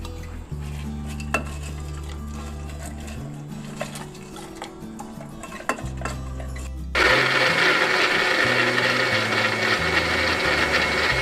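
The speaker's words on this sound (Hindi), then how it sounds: "सारी चीज़ें ऐड करके हमने दोबारा ब्लेंडर चलाया अच्छे से।" A blender whirs through sugar, fruit syrup and ice, its steady motor broken by bursts of rattling ice and clinking, then a louder, brighter roar of blending in the final seconds, with no talk.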